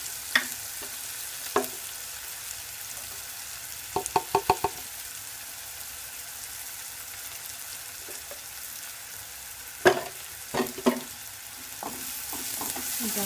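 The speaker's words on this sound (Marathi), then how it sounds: "चांगलं तेलात परतून घ्यायचं।" Red chili masala being sautéed in oil, a soft steady sizzle with a few light stirring clatters of a spoon against the pan, fairly quiet and close.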